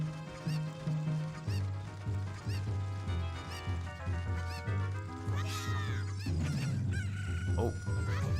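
Chickens cluck and crow in Zelda: Ocarina of Time 3D, the calls sitting over steady video-game music with a repeating bass line and brief bright effects near the end.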